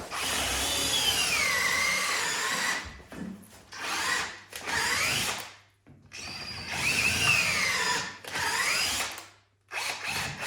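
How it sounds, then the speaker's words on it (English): A power drill whines in long, loud bursts with brief pauses between, grinding steadily up close while drilling out the control arm bushings of a 1965 Chevelle. "I think I'm gonna drill them."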